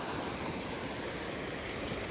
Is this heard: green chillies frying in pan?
no